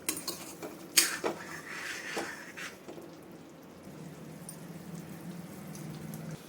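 A spoon clinks and scrapes inside a cooking pot while boiled potatoes are mixed in for a potato curry, a few sharp metallic knocks at first, then soft steady stirring and sizzling.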